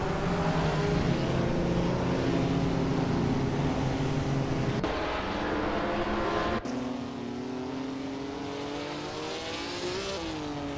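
A 1959 Maserati Tipo 61 Birdcage racing car in a racing video game, its engine droning loud and steady at high revs with shifting pitch, a brief gear change midway, then continuing to rev alone without voices.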